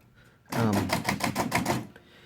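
Keys on a flea-market typewriter with some sticky keys and a worn ribbon are struck in a quick run of about eight sharp, evenly spaced clacks, close and loud, with quiet before and after.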